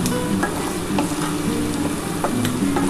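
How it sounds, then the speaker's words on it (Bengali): Onions sizzling loudly in oil in a pan while a spatula stirs them, with a dense continuous crackle broken by brief scraping taps, no voices. "দেখো, আমার পেঁয়াজটা কিন্তু ভাজা ভাজা হয়ে এসছে।"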